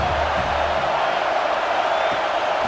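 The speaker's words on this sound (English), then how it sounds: "this crowd trying to help keep them there." Stadium crowd in the EA Sports College Football 26 video game, with a South Carolina home crowd, keeps up a steady, loud roar of cheering and shouting throughout, with no break or clear peak.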